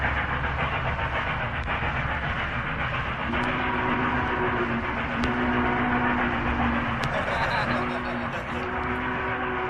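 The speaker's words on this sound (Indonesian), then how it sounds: "Kereta listrik adalah salah satu transportasi umum yang ada di Jakarta" An electric commuter train in Jakarta rumbles loudly and steadily, with repeated two-tone horn blasts on top. People talk under the train noise.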